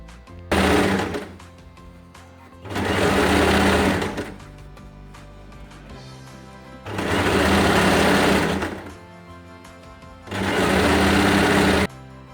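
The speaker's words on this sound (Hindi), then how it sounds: "यहाँ पर अभी हमें सिलाई लगा देनी है नीचे तक" A sewing machine stitches fabric for a kurti neckline in four loud, steady runs of a second or two each, with short quiet pauses between them as the cloth is repositioned.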